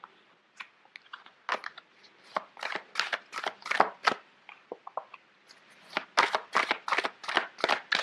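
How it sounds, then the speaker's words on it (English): Oversized tarot cards are shuffled by hand in short irregular bursts of riffling and flicking, close and fairly clear, with brief pauses between bursts and no talking. "Sorry, these cards are quite big. It's hard to shuffle."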